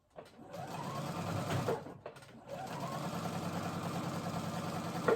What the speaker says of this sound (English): Kind of hold the tension on my sewing machine a little bit.